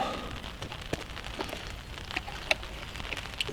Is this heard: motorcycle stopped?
no